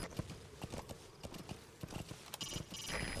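Horse hooves clip-clop in a steady, fairly close rhythm through a Metal Gear Solid V game scene, a string of sharp, distinct hoofbeats with some fainter game sound effects behind them.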